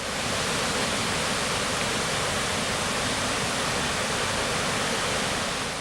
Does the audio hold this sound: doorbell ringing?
no